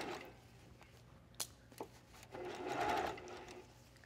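Quiet sewing machine stitching around a dress neckline through fashion fabric and lining, a soft steady mechanical whir with a few light clicks, close and without talk.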